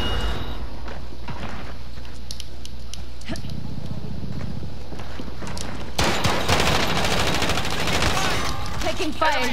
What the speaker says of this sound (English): Taking fire here. Taking shots.